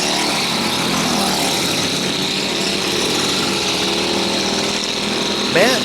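Small backyard go-kart engines buzz loudly and steadily during a race, a constant high-pitched motor drone filling the whole stretch up close.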